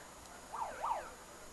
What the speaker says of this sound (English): There's a car alarm there